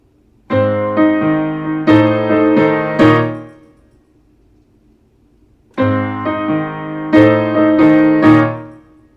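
A piano plays a short melodic phrase of chords and notes from a theme tune, pauses, then repeats the same phrase, clear and close with nothing else audible.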